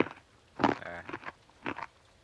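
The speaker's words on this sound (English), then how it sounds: "I just hear crunch." A Jolly Rancher hard candy being crunched close to the mouth, with a few sharp crackling bites in quick clusters and short pauses between them.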